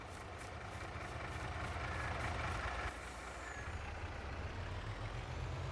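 A truck in Farming Simulator 22 idles as a constant low engine drone, with a quick series of reversing beeps early on and a brief airy hiss.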